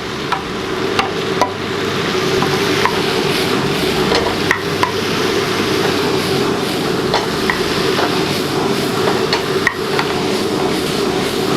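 Vegetables stir-fried for lagman, seasoned with a little salt, hiss in a steady loud sizzle with scattered sharp clicks of a utensil against the pan throughout.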